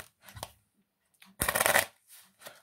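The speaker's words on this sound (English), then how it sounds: "You can give these cards a shuffle if you want." Playing cards being shuffled in short bursts: a few soft riffles and flicks, then one louder, longer riffle, close up and quiet between bursts.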